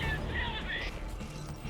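Video game horse whinnies briefly after being called, a short neigh under game sounds and voices.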